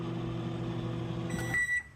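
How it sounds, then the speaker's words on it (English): Microwave oven heating a gas station sandwich, a steady low electrical hum running close by, then stopping with a few bright beeps at the end. "It says microwave for 1 minute."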